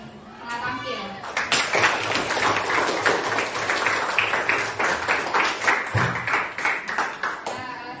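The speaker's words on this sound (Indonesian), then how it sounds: "Jadi aplaus dulu untuk semua kelompok yang telah tampil." Classroom audience clapping for groups that have just presented, a dense round of close applause that rises quickly and tapers toward the end.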